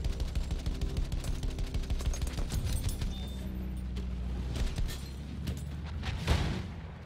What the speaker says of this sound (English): That AA was shooting at me.